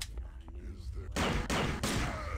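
Turret gunfire in the video game System Shock 2: a quieter stretch with faint game noise, then rapid loud bursts of automatic shots that fill the second half.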